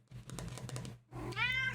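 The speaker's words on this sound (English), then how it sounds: "Meow. Meow." A single cat meows up close, a rising and falling call after a stretch of soft tapping and rustling.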